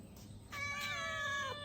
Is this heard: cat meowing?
yes